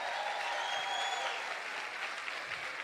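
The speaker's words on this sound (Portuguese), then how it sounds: "Dá um aplauso para ele aí." A church congregation breaks into warm, continuous applause, many hands clapping at once in a large room, with a few faint whistles or voices riding over the steady clatter.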